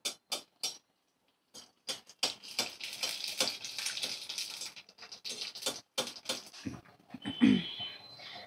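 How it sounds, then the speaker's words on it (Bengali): Fuchka puris frying in hot oil, with crackling sizzle bursts and sharp popping ticks as they puff up, close and loud, with short gaps between the bursts. "এই সব ফুচকাগুলো ভেজে আসছি তাহলে"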